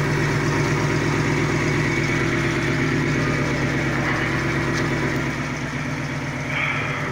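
A Ford Mustang fitted with long tube headers and a new exhaust system idles steadily close by, with a loud, even, throbbing rumble that dips slightly in level toward the end.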